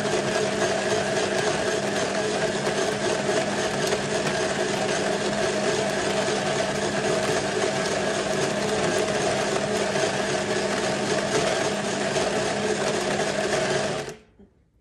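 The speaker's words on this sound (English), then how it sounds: "We're gonna click the grind button." A home coffee maker with a built-in grinder whirring through coffee beans, a loud, even mechanical drone that runs steadily for about fourteen seconds and then cuts off abruptly.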